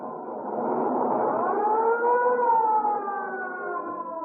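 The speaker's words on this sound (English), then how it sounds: "The ambulance is on its way now and being in 2 minutes or less" An ambulance siren wailing, rising and falling in pitch, steady and fairly loud, heard alone without any voices.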